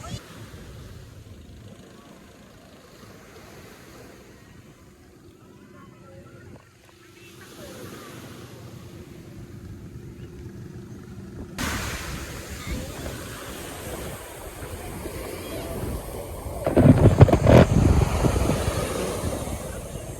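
Sea waves wash and break nearby at Cabangaon Beach, Burgos, Pangasinan, over a constant wind-blown roar, swelling louder toward the end, with people talking in the background.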